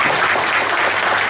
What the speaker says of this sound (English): I think you need to clap here.